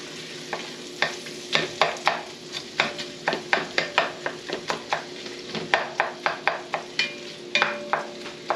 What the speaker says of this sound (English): throw in the onions. And we're just going to cook those down until they get nice and soft